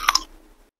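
One crisp bite into a small, fresh, homegrown baby cucumber, two quick sharp crunches close to the microphone followed by a short fading chew, no talking.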